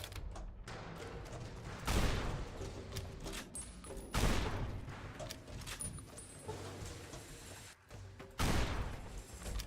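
Gunfire in Fallout New Vegas, with several loud broadband shots at roughly two-second intervals ringing over a busy game soundscape with faint tones.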